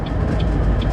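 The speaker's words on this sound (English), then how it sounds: "Oh, there's a train with this train running." A train runs past in Arkansas City, Kansas, giving a steady, loud low rumble with faint periodic higher tones throughout the brief moment, with no voices over it.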